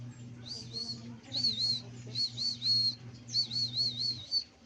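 High, repeated chirping calls in short bursts where pigeons are gathered, nearby over a low steady hum, the calls coming in clusters with brief pauses between.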